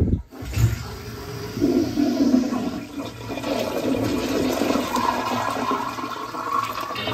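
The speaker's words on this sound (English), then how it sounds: "Let's turn on water to the flushometer." A Sloan Regal flushometer flushes right after the water supply is turned back on, a loud close rushing surge of water that holds steady for several seconds in a bathroom.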